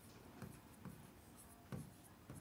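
Pen strokes on paper while working out an average calculation by hand, quiet and close, with four soft scratchy bursts spaced irregularly over a faint steady background.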